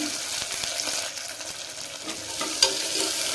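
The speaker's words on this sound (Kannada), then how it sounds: "ಈ ಬಟಾಣಿ ಸಮ ಸೇರಿಸ್ತಾ ಇದ್ದೀನಿ. ಎಲ್ಲದು ಚೆನ್ನಾಗಿ ಫ್ರೈ ಆಗಲಿ." Soaked green peas sizzling in hot oil for chitranna, a steady crackling fry with light stirring scrapes and a sharp tap near the end, close and alone without talk.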